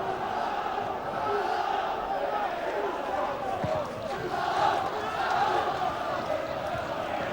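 Stadium crowd at a 1993 Scottish football match between Raith Rovers and Kilmarnock, a steady broad roar of cheering that swells slightly midway and stays loud throughout.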